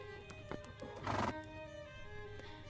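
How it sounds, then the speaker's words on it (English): A horse whinnies loudly in a burst near the middle, with hooves clip-clopping in scattered beats before and after, nearby and without talk. "It took 2 minutes to strap everything to my horse, and when we finally rode onto the street"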